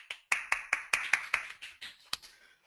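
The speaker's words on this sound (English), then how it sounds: "Round of applause." A few people clapping in a small room, about a dozen separate sharp claps in an uneven rhythm, close and fairly quiet, with no voices.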